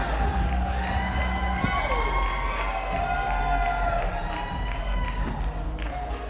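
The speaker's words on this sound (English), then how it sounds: "This stadium is rocking here." A packed stadium crowd roars and cheers continuously at a Weber Cup bowling match between the USA and Europe, a loud, sustained wall of voices with whoops rising throughout.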